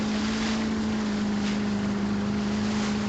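A motorboat engine in the video game Max Payne 3 drones with a steady low hum under constant wind and water rush, loud and unbroken, with no talk.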